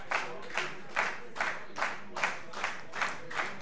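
A wrestling crowd claps in a steady rhythmic beat, about two claps per second, moderately distant and even throughout.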